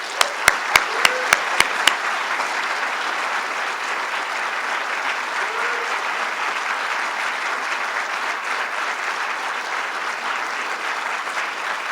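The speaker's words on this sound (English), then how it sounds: "let's give Governor Cuomo a huge round of applause" A studio crowd at the unveiling of a large public art installation in New York's Second Avenue Subway gives Governor Cuomo sustained, dense applause, opening with a few sharp, distinct claps before settling into a steady, even roar of clapping.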